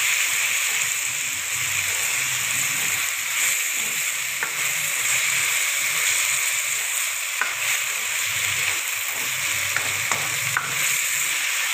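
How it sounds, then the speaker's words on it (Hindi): Tomatoes cooking down in a pan until soft, a loud continuous close sizzle and hiss with a few faint utensil taps scattered through it. "हमें टमाटर को सॉफ्ट होने तक कुक करना है।"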